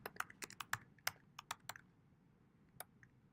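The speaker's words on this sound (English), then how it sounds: "A little bit less typing." Keystrokes on a computer keyboard while coding a linked list, a quick irregular run of sharp clicks for about two seconds, then a pause and one or two isolated taps, close and clear with no talking.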